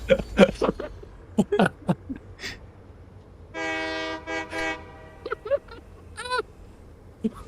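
A train in the Satisfactory video game rolls along and sounds a steady horn blast midway, with other short tonal game sounds and clicks scattered around it.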